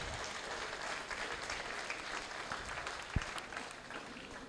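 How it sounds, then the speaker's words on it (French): Applause from an audience for high school students at a closing speech, a steady wash of many hands clapping without a break. "on peut les applaudir"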